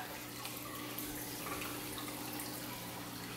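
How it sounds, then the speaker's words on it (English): Water is poured into a container holding cichlid fish in a garage, a steady splashing rush that runs continuously at moderate level, with a low hum underneath and no talking. "So I'm gonna throw some more water in."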